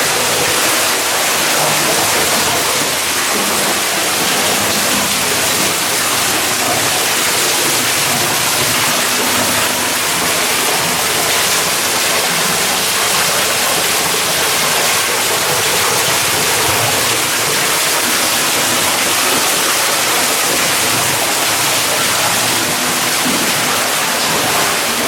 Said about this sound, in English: this waterfall.